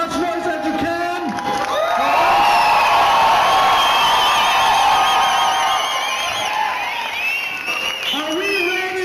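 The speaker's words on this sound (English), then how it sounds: "by a round of applause, make as much noise as you can" Large crowd at an Idle No More grand entry in West Edmonton Mall cheering, clapping and whooping, with children shouting, a loud sustained swell that builds and fades, with voices calling out throughout.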